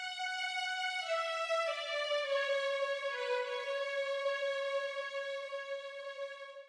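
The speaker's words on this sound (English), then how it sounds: "you should hear it flipping back and forth, right, left, right, left, right, left" A synthesized melody of clear sustained notes steps smoothly from pitch to pitch, bouncing alternately between the right and left channels at an even, moderate loudness with no other sounds.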